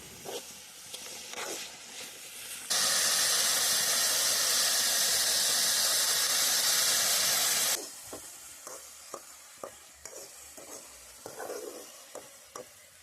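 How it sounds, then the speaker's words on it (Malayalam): Masala with salt is stirred and sautéed in a pan. A loud, dense sizzle surges for about five seconds, then eases back to quieter frying punctuated by repeated sharp spoon taps and scrapes against the pan. "ഇനി എന്തായാലും നമുക്ക് ഈ ഒരു ഉപ്പിട്ട് നല്ലപോലെ ഒന്ന് ഇളക്കി ഒന്ന് വഴറ്റിയെടുക്കണം."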